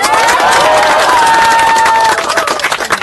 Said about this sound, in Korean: 박수 쳐드립시다. 박수.